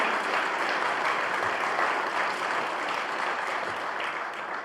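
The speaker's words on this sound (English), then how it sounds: "Please give them a round of applause." Audience at a mayor's state of the city address giving sustained applause, an even, moderately loud mass of clapping that slowly tapers toward the end.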